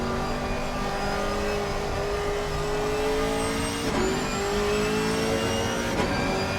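A Chev-engined race car in the GT4 championship at Silverstone, heard from the cockpit as a loud, continuous engine howl with rising and falling pitch through gear changes, a couple of brief shifts breaking the steady drone, no speech.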